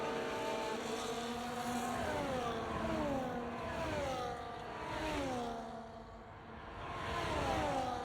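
Sim racing game cars roar down a straight, several engines whining and rising in pitch together through gear changes, with the sound swelling and fading at a moderate distance.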